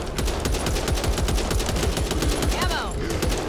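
Rapid automatic gunfire rattles in the zombie shooter Back 4 Blood, a fast steady stream of loud close shots, with another burst layered in near the end and a voice briefly talking over it.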